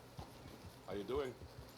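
A horse's hooves clip-clop at an easy walk in Red Dead Redemption 2, soft and fairly close, with a brief murmur of voice over the middle of the steps.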